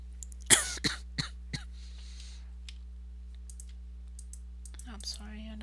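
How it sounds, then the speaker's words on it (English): A person coughs several times in a short burst of sharp, close coughs and a throat clear while sitting at a computer, followed by quiet room hum and faint clicking. "I don't know why I'm keep coughing."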